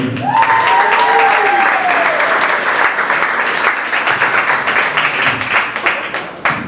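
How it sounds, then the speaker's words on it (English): Loud applause from an audience at a comedy show, with a brief cheer or whoop at the start, the clapping holding strong and then breaking into sparser individual claps near the end. "Put your hands together for Maureen Sullivan"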